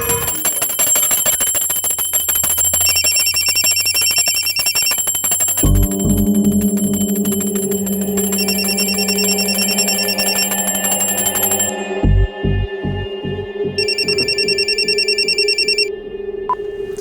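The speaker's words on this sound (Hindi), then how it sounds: "अभी फोन की घंटी बजाने की क्या जरूरत थी?" Telephone bell ringing in a TV crime drama scene, repeated bright metallic trills in bursts over a steady electronic tone and a low rhythmic pulse, loud and close with no talk.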